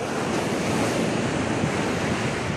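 Ocean waves break on a Goa beach as a loud, continuous surf roar with buffeting wind noise on the microphone, and no voices heard.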